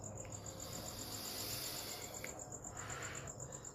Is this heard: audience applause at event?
no